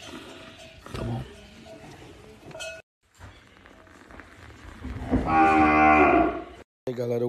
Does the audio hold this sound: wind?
no